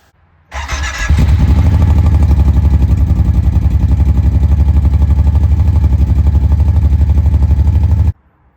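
Kawasaki Teryx 4 800 side-by-side from 2022 with both catalytic converters removed and the exhaust tip off, starting up and then idling loud and close with a steady, throbbing rumble.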